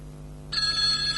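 A telephone starts ringing partway through with a bright electronic trill, loud and steady against a low background hum.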